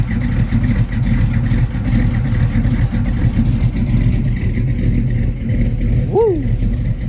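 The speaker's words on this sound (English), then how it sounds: "we just put a monster motor in this Monte Carlo. Small block, air 4 heads." A small-block LS V8 with air-4 heads in a custom Monte Carlo rumbles and revs loudly up close, a dense continuous engine roar with a brief whooping sweep near the end.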